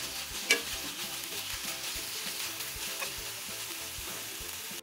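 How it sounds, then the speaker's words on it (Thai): Beef being stir-fried with curry paste over medium heat for kua kling, a continuous close sizzle with rhythmic stirring and scraping in the pan and no talk. "เมื่อพริกแกงหอมแล้วใส่เนื้อลงไปเราจะใช้ไฟปานกลางเราจะคั่วไปเรื่อยๆจนกว่าเนื้อจะกลิ้งค่ะ"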